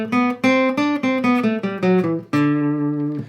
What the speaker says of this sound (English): D mixolydian sounds like this